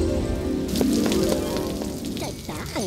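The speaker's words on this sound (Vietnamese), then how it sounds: "trời mưa lớn quá luôn đây nè" Heavy rain pours in a cartoon, a steady, dense hiss of rainfall that holds for the whole stretch, with tonal music and short animated sound effects layered on top.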